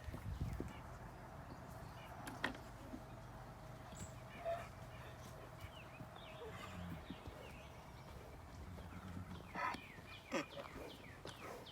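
Horses, a donkey and a dog around feeding time on a farm, with hoof clops, rustling and a few short animal calls scattered over steady outdoor background noise and some talk.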